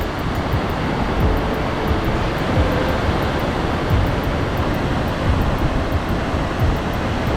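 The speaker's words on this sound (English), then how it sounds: "There's so much spray from all the waterfalls." Roaring waterfalls at Tumpak Sewu, a steady dense wash of falling water and spray with wind buffeting the microphone, loud and continuous throughout with no talking.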